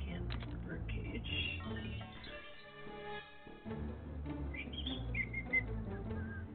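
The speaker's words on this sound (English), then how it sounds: "Oh, I'm whistling." A person whistles a wandering tune while playing a hidden object puzzle game, thin tonal notes drifting over steady background noise and occasional clatter.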